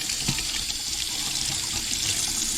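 A faucet at a medical center runs in a steady, close gush of water, filling the sink with an even rushing hiss throughout.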